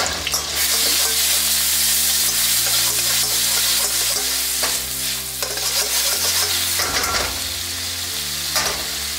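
Garlic and green chilies fry in a hot pan for street-style Indian chow mein, a steady sizzle running throughout while a spoon stirs with repeated scraping strokes; no one speaks.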